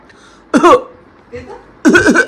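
Two short, forced coughs from a nearby person, separated by a pause with a faint murmur between them.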